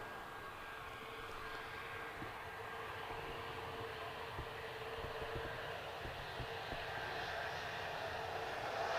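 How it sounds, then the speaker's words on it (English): A Ryanair Boeing 737 MAX airliner arriving from Lanzarote at Manchester Airport makes a faint, steady distant roar with a broad rumbling wash that slowly builds and never drops away, with no voices. "Ryanair's just arrived, 737-800 MAX, coming in from Lanzarote."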